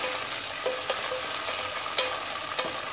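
Onions and tomatoes sauté in a pan, a close, steady sizzle broken by a few soft clicks of stirring.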